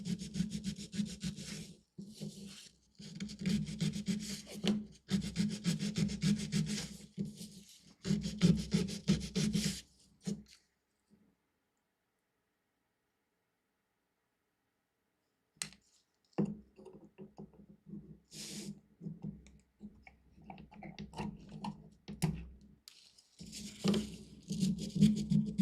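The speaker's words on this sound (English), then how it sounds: "See, I'm just sanding off on either side of both taps." Sanding both sides of taps on a stitching kit project, with bursts of light, rapid scratchy rubbing that stop for a few seconds of silence and then resume, fairly close and soft.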